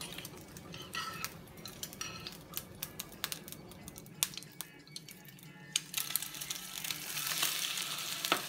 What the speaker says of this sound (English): putting the battered up piece of bread into the frying pan